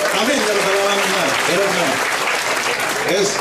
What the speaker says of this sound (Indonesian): Tepuk tangan untuk Imam.